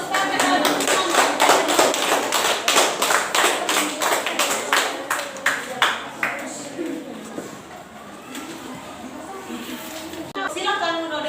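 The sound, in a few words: classroom applause for a student group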